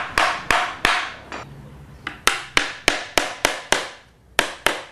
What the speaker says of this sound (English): All we need is a hammer, some nails, and it's time to get knocking.